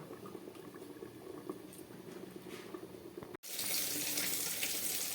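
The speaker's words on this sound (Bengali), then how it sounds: "ঝোলটা একেবারে ফুটে উঠেছে" Bengali-style chicken soup broth with potatoes bubbling in a covered pot over low gas, a steady bubbling patter that swells into a louder, denser rolling boil after a brief break near the end.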